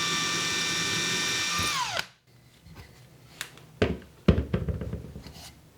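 A power drill whines steadily, then winds down and stops as it finishes boring through a plaster slip casting mold, followed by scattered knocks and scraping handling sounds, close and fairly loud.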